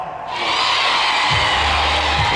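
A large crowd in a Madden NFL football video game roars and cheers continuously, a loud dense wall of noise with a low rumble swelling underneath.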